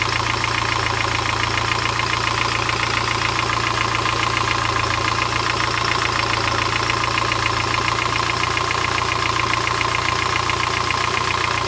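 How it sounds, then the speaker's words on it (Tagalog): Kia Pride with a B1 engine idles steadily close by while its carburetor idle is adjusted, a continuous loud mechanical hum with a fast, even ticking pulse and no pauses or talking. "Taasan pa natin ng konti yung idle."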